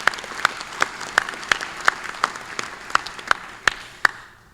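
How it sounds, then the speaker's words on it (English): A small audience at an annual business meeting gives a round of applause, evenly spaced claps ringing out at a steady rhythm in a room before fading. "Please give her an appreciation round of applause."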